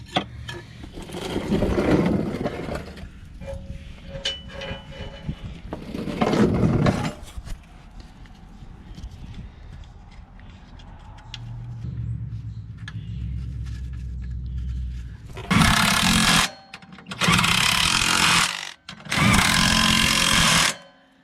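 A loud power tool whirs in several bursts while working on a Jeep XJ, with shorter, harsher runs near the end separated by brief pauses, all close by.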